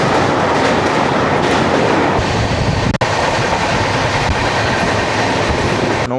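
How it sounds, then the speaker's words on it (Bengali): Ahmedabad–Mumbai Central Double Decker Express (12932) rolling along at speed, a loud, steady broadband rumble with rhythmic wheel clatter filling the whole stretch, and one brief sharp knock near the middle. "এই হচ্ছে আমাদের ডবল ডেকার এক্সপ্রেস।"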